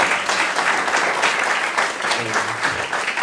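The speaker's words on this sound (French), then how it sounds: "nous pouvons vraiment glorifier Dieu en applaudissant" A church congregation at an anniversary service claps in a dense, continuous round of applause that fills the room, loud and sustained for the whole stretch.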